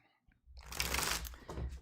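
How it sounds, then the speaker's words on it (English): A tarot card deck being shuffled by hand, a close, crisp riffling burst of cards after a brief quiet start, running steadily for under two seconds with no talking. "we can do one decent shuffle over here and try that out"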